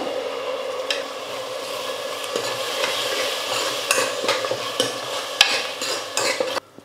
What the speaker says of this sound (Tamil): தக்காளி சேர்த்ததுக்கப்புறம் நல்லா கலந்து விட்டுருங்க